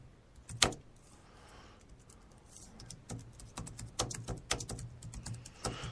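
Someone types on a computer keyboard at a desk: faint, scattered clicks that quicken into irregular bursts of keystrokes, with no voices.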